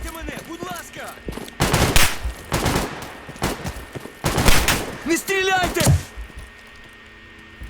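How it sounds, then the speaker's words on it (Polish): Bursts of automatic gunfire crackle in Stalker Radiophobia 3 during a firefight with mercenaries, several loud volleys spread across the clip, mixed with in-game voices. "ale ktoś tam strzela"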